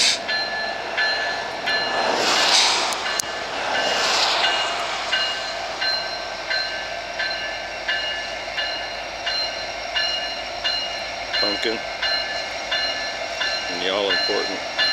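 An MRL train locomotive departing in April snow rumbles steadily nearby with a constant mechanical drone and a few clanks and squeals of rail cars, loud and continuous.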